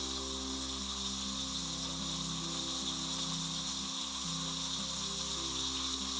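Steak sizzling on a flame gives a steady, quiet hiss and crackle with a low hum underneath, continuous throughout and without voices.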